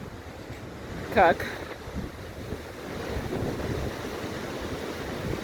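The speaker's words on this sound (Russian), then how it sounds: "Слышите, да, как шумит ветер?" Strong, warm winter storm wind off the sea in Antalya, Turkey, roaring steadily with surf crashing underneath, buffeting the microphone throughout; someone speaks one brief word near the start.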